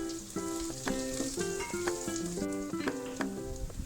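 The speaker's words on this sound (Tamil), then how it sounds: "ஜீரகம் பொரிஞ்சதும் இப்போது பொடிசாக அரிஞ்ச பூண்டும் இஞ்சியும் சேர்த்துக்கலாம்." Garlic and ginger, finely chopped, frying in hot oil with cumin seeds for a spring roll filling, a steady crackling sizzle with repeated stirring clinks and scrapes against the pan throughout.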